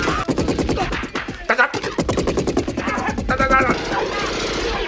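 Gunfire in an Arnold Schwarzenegger action film crackles in rapid, sustained automatic bursts, close and loud, with sharp rhythmic shots running through nearly the whole stretch alongside other action noise.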